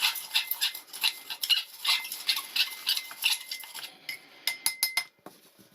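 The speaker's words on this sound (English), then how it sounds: "Let's give it a good stir first." A spoon stirs Canadian ration coffee in a cup, with quick repeated metallic clinks against the sides in a steady rhythm, close and clear, ending in a few sharper taps.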